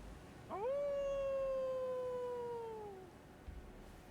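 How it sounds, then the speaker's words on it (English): A character howls in the video game Elden Ring, a single long, sustained wolf-like howl that holds steady for a few seconds before slowly falling away, heard alone. "He's the one that's howling."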